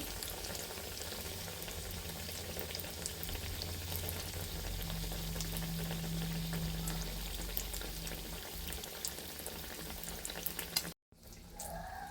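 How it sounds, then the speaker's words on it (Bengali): Steady, crackling sizzle of breaded chicken frying in hot oil in a pan, continuous and close, with a brief cut-out near the end. "আমি ভাজতে বসিয়ে দিয়েছি"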